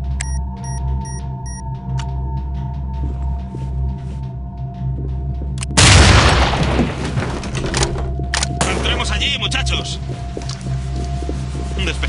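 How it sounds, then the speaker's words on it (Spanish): Breaching charge detonating in a SWAT video game during a house raid, a single sharp loud blast that cuts through a low ambient hum and briefly rings out before settling. "Colocando carga. Preparaos para la explosión."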